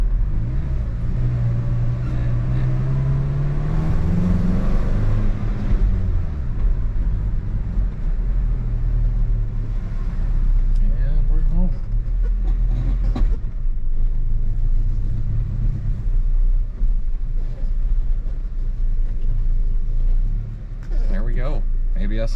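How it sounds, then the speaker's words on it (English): A truck bought at a garage sale runs with a misfire, a loud, close low rumbling idle with an uneven beat that continues steadily while people talk over it. "other than the obvious misfire that it's got, it's still running."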